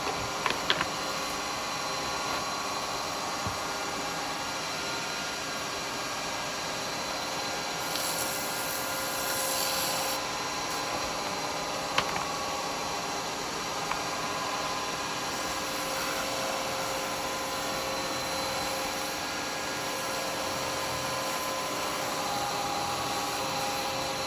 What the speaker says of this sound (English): We'll go for a bit of sanding paste.